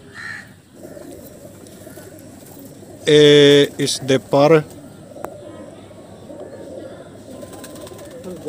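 High flyer breeder pigeons coo softly and continuously in the background, while someone speaks briefly in a loud burst close by.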